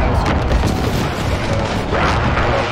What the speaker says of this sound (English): Be advised, moving position airstrike inbound.